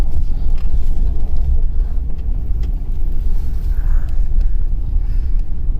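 A 2007 Mercury Grand Marquis driving, heard from inside as a steady, loud low engine and road rumble with wind noise, continuous and without talk.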